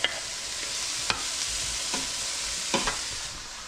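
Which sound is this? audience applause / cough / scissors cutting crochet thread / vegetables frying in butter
vegetables frying in butter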